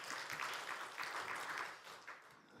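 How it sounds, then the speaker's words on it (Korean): Soft, steady applause from a church congregation during a Sunday service, somewhat distant, continuing evenly before tapering slightly at the end. "박수로 우리 드려요."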